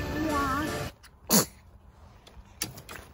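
A single sharp sneeze from a child bursts out near the middle, preceded by a person talking and followed by quieter handling sounds at a Halloween outing near a fish hatchery.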